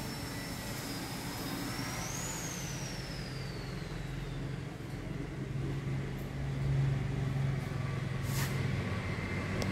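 Traffic on the EM Bypass road in South Kolkata, heard from a balcony above: a continuous distant rumble with passing vehicles swelling louder toward the end and a faint rising engine whine early on.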